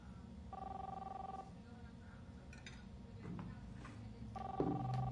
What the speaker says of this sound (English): Don't answer the phone, William. Do not do it.